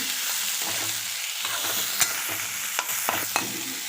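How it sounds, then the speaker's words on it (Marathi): Boiled, chopped potatoes sauté with chilies in hot oil in a pan, giving a continuous close sizzle with scraping stirs and a few sharp spatula taps. "आता उकडलेले चिरून घेतलेले बटाटे मी घरतलेले आहेत आता परतून घेत आहे"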